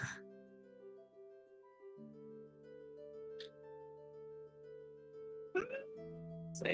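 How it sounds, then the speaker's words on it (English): A cat meows in a few brief, scattered calls over a low, steady tonal background. "Apparently the cat has something to say."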